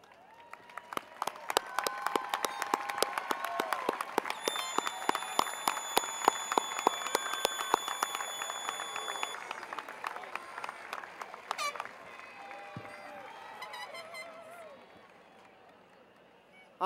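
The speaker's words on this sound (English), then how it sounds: "Parents, please stand and join me in applauding your children." At a high school graduation ceremony, an audience applauds steadily for about twelve seconds, with sharp claps over a sustained tone. The applause then thins and fades into quieter room sound.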